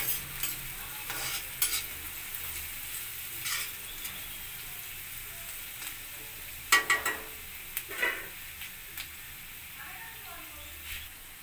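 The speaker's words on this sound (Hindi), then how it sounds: "अब इसे हम थोड़ा सा फ्राई कर लेते हैं" Grated cabbage and finely chopped capsicum frying for veg manchurian, a steady close sizzle with intermittent scraping of a spatula across the pan and a few louder stirring strokes; a voice speaks at times over it.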